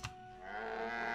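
A Muku, a farm animal in the video game My Time at Portia, gives a single drawn-out synthesized moo that swells and holds near and fairly loud, with no talking.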